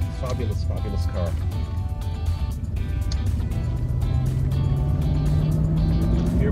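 A 1983 Mercedes 500SEL with only 45,000 miles driving, its engine droning steadily from inside the cabin with a rising tone as it pulls through smooth gear changes, while someone talks over it.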